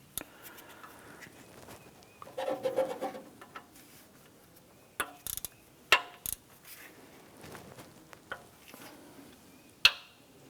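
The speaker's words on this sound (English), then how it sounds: "I'm going to come back to the 3 front bolts here with our ratchet. I'm going to snug these down." Ratchet work on the timing cover bolts of a 2001-2005 Honda Civic during a camshaft seal job: scattered metallic clicks and clinks, a short rattling burst early on, then a few sharp isolated taps, close by and fairly quiet.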